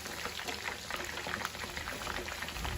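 Minced meat kebabs fry in oil in a pan, giving a dense, continuous sizzle and crackle, steady and close throughout, with no talking.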